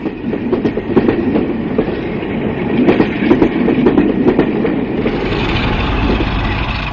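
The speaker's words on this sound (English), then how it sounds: "A peak restarting from Berwick with the 805 Edinburgh to Newcastle in May 1974." A British Rail Peak class diesel locomotive restarts a passenger train from Berwick, its engine rumbling loud and near with rhythmic wheel clatter and clanks building over the recording.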